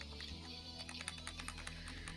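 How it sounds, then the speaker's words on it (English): Computer keyboard keys are pecked at by a pet, making faint, irregular light clicks over a steady low background hum. "She's just pecking at the keys right now."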